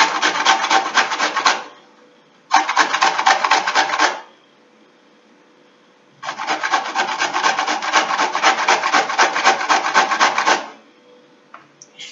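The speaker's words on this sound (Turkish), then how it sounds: "Kerevizimizi rendeleyelim. İri tarafıyla ince bir rendeleyelim." Celery root is rubbed down a grater in three long bursts of coarse, rhythmic rasping, close and clear, with short quiet pauses between strokes and no talking.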